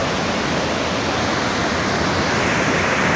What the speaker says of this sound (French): Voilà la chute Guillaume